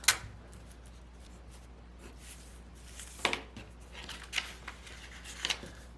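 Scissors cutting out a paper sewing pattern piece for a raglan sleeve garment, a few quiet, close snips and crisp paper rustles spaced irregularly over a faint background hum.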